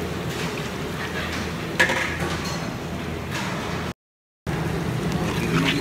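Garlic, onion and ginger sizzle in hot oil for beef papaitan, a steady broadband frying hiss with occasional clinks and scrapes of a utensil against the pan, plus a brief gap of silence midway.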